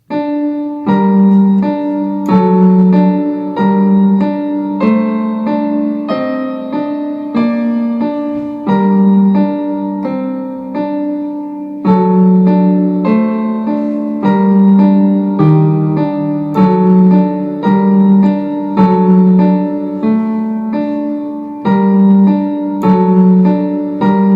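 Piano playing three interlocking parts of a piece from Anne With An E at once, a steady stream of evenly paced notes over a low bass part, clear and close with no voices.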